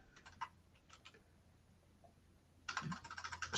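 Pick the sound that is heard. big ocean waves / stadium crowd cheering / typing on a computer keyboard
typing on a computer keyboard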